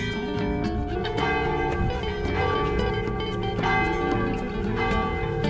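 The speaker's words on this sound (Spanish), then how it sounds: "pues ahí los dejamos con estas campanadas" Church bells ring continuously in overlapping, resonant peals, with repeated clanging strikes layered over a sustained metallic hum.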